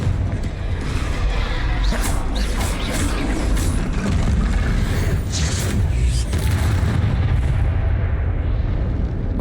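Confringo blasting spells exploding in combat in Hogwarts Legacy, a dense run of booming blasts and mechanical clatter loud and close, with scattered spell effects and no clear talk.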